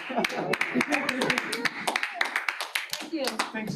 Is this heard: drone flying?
no